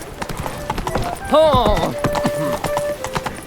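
Roach, the horse in The Witcher 3, clops along with steady, rhythmic hoofbeats, close and distinct. A voice calls out briefly midway.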